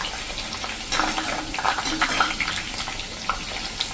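Potato wafers frying in hot oil, giving a steady, soft sizzle with scattered crackling pops close by and no talking.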